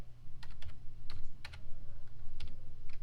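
Keystrokes on a computer keyboard as a word is typed into a color scheme tool, a handful of crisp separate clicks in short bursts over a low steady hum, fairly quiet and with no one speaking.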